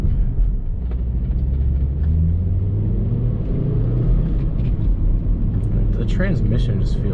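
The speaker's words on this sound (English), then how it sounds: "It does kind of have some nice little turbo flutter for being stock." A stock Volvo V70R wagon's turbocharged engine rumbles steadily from inside the cabin while driving, with faint turbo flutter chattering near the end, and someone talks throughout over the drone.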